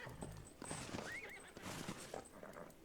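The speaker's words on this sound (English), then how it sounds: "Show off this horse that we pulled out of our..." A video game horse, paraded through a town, gives a clear whinny over rhythmic clip-clop hooves. Someone talks quietly underneath.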